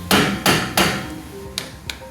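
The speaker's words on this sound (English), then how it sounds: "I need a hammer." Hammer striking a suspension part on a $900 Australian ute, three loud evenly spaced metallic blows close by, followed by two lighter taps after a short pause.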